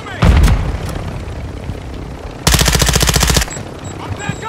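Automatic gunfire in a military video game: a short early burst, then a dense rapid volley lasting about a second, loud against battlefield ambience and faint radio-style voices.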